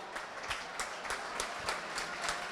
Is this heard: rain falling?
no